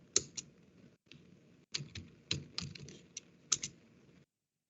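Typing on a computer keyboard, close and quiet: a burst of key clicks, a brief pause, then scattered taps and a few sharper keystrokes before it stops, no voices.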